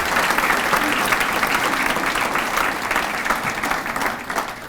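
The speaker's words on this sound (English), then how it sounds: "let's put our hands together for Chrissy and her crowd." An audience at a scholar-athlete recognition awards ceremony applauds steadily, a dense wash of clapping from a crowded hall that holds for several seconds and tapers slightly at the end.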